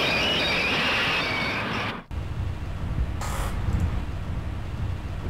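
A train runs in the video game Gadget: Past as Future, a loud steady rumble that cuts off abruptly partway through and drops to a quieter rolling hum with a brief hissing burst.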